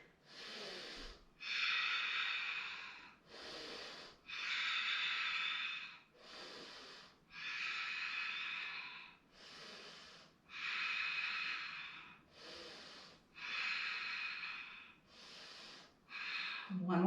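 Deep, slow breaths drawn in and let out during a yoga triangle pose, about ten long breath cycles in a steady rhythm, close and clearly audible.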